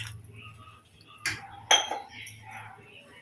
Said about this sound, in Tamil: அந்த பாலை இப்போ மிக்ஸ் பண்ண போகிறோம்.